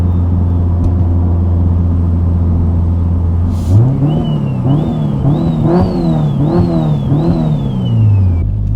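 An 800hp Subaru STI runs at a low, steady idle, then accelerates hard at full throttle in third gear from about 2,000 RPM. Its loud engine note climbs and surges in repeated rising waves.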